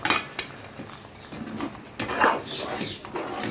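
Coconut paste is mixed into a pot of coconut prawn curry, heard as a few close clinks and scrapes of a spoon against the metal pot, scattered and uneven over a quiet background.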